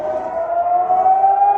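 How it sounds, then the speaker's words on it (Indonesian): A civil defense warning siren sounds during a rocket attack on southern Tel Aviv, Ashkelon and Ashdod, a loud sustained wailing tone rising slowly in pitch, steady and alone. "sirine peringatan berbunyi di wilayah selatan Tel Aviv, Ashkelon, dan Ashdod"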